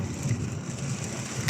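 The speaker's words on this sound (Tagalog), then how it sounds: "napakalakas ng ulan nito guys. May kasama pang kulog." Heavy rain in Manila pours steadily with a dense, constant roar, and low thunder rumbles underneath throughout.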